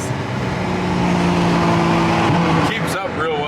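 A Nissan R34 GTR accelerates hard, its engine revving in rising tones up close, with a passenger's faint voice and a brief whoosh near the end.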